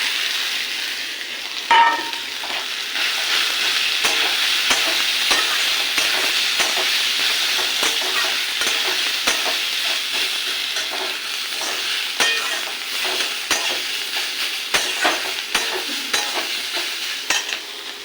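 Boiled potatoes fry and sizzle steadily in a pan for a banana-flower curry, with frequent sharp clicks and scrapes of a spatula stirring them throughout, fairly close and with no talking.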